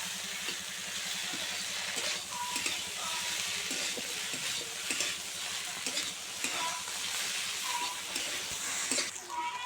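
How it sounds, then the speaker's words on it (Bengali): Chopped chilli and ginger paste fry with dried fish in a pan, a dense steady sizzle under repeated rhythmic scraping and stirring strokes, close up and continuous throughout. "এবারে এই পর্যায়ে দিয়ে দিচ্ছি কেটে রাখা লঙ্কা কুচি আর দিয়ে দিচ্ছি আদা বাটা, দিয়ে আরও কিছুক্ষণ আমি ভালো করে নেড়ে চেড়ে নেব।"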